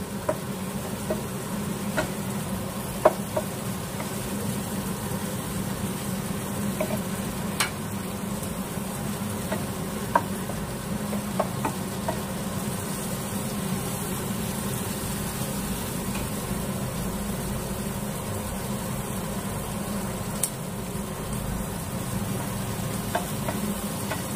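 Ingredients for paneer butter masala frying in a pan, a steady soft sizzle running throughout with occasional light clinks of stirring, moderately close and without speech.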